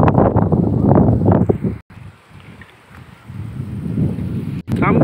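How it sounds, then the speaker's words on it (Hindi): Evening wind in the mountains of Uttarakhand buffets the microphone in heavy low gusts that ease into a quieter lull before rising again, with brief dropouts. "शाम के समय पहाड़ों में आपको पता ही होगा कि काफ़ी हवा चलती है।"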